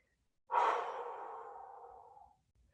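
One long, heavy exhale during a resistance workout, starting sharply and trailing off over about two seconds, close and fairly quiet with no talk.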